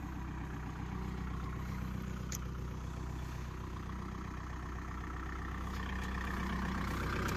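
A Kubota 4501 tractor diesel engine runs steadily, working with a harrow, giving a constant low throbbing drone that stays even and moderately quiet throughout.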